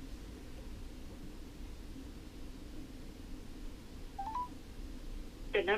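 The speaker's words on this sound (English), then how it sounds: "I am going to call that number right now." A phone number is dialed on speakerphone: a short run of faint touch-tone beeps comes near the end over a steady low hiss, with no talk.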